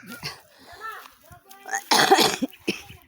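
A few harsh coughs burst out close by in the second half, after quieter vocal sounds and murmurs.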